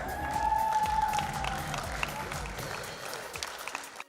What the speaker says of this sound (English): we keep the applause going for Eulalie Downer